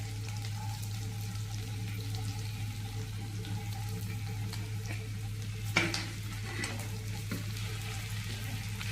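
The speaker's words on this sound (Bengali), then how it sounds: "প্রথমে বিনসটা আমি ফ্রাই করে নেবো" Green beans fry in hot oil, a soft continuous sizzle beneath a steady low hum, broken by one brief louder clatter of stirring partway through.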